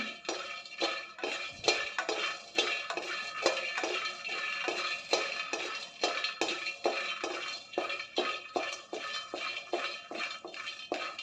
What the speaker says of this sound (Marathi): शेंगदाणे चांगले भाजून झालेले आहेत हे मी एका डिशमध्ये काढून घेते